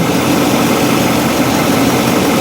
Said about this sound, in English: we have our truck running now